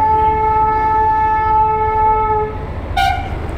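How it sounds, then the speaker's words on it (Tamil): A small Darjeeling toy train passing sounds a loud, steady horn for about two and a half seconds. A shorter, brighter blast follows near the end, over a constant low rumble. "அந்த ட்ரெயின் போகுது பாருங்களேன்."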